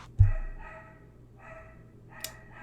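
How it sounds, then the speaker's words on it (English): A single sharp dog bark close by, followed by muffled low sounds and a faint later yip, in an otherwise quiet room. "my dog is barking"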